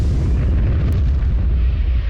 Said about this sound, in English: And the moon exploded.